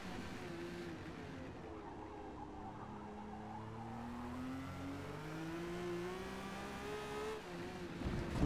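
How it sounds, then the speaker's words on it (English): A race car in Forza Motorsport at the Hockenheimring, running with severe front-left tire wear, drones with a rising and falling engine whine at steady, moderate loudness, its pitch sweeping gradually through gear changes with no talk. "Just, the car is screaming."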